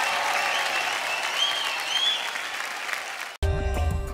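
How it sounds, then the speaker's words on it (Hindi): An Indian Idol Season 13 stage audience applauds a singer with loud, sustained clapping for over three seconds. The clapping cuts off abruptly into music. "एक बार जोरदार तालियां हो जाए संचारी के लिए"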